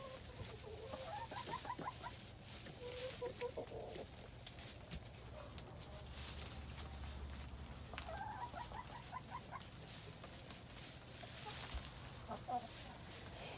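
Chickens cluck and murmur inside a backyard chicken coop at Christmastime, soft repeated calls rising and falling over a steady low hum, fairly faint and distant.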